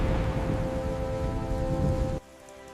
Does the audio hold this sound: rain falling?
yes